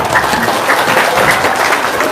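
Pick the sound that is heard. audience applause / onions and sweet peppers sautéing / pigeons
audience applause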